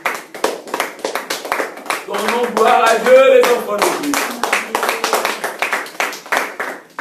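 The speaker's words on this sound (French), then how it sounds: "Quand elle arrive, nous applaudissons," Church congregation clapping hands in steady rhythmic beats through a worship service, a loud voice speaking and singing over the claps for most of the stretch.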